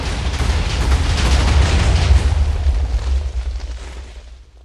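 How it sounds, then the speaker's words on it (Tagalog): A massive explosion blows up a whole school building in Minecraft, a loud roaring boom that rumbles for several seconds and then fades away, with no talking. "Papasabugin ko na."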